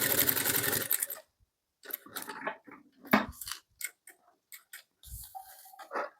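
A sewing machine stitches a fabric seam on a sharara bottom in quick, close bursts of rapid ticking, stopping and restarting several times with short pauses between runs.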